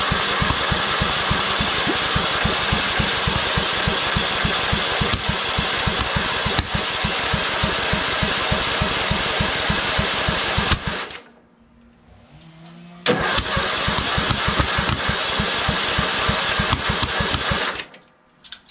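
A Kohler Command engine on a Craftsman LT2000 lawn tractor runs loud and rough with rapid firing pulses, cuts out for about two seconds, then catches again and runs unevenly before stopping, misfiring and backfiring off timing.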